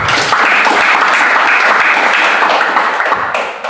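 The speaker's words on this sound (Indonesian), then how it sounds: "Wah, berikan tepuk tangan." Dense, sustained applause from a congregation at a church service held in a Jakarta apartment, loud and steady throughout before tapering slightly at the end.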